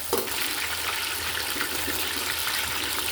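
Frozen chickpeas thawing under running tap water in a kitchen, a steady close hiss of flowing water with light splashing throughout.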